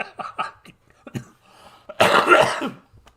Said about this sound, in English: COVID cough